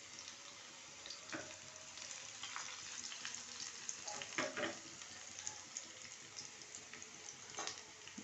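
Onions and whole red chilies fry in hot oil for a tempering, giving a soft, steady sizzle with scattered sharper crackles and pops, fairly quiet and without talk.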